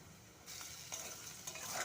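Potatoes frying lightly in a pan for a thin, mildly spiced vegetarian curry, giving a soft, steady sizzle that swells after a quiet start, with faint stirring scrapes and no talking.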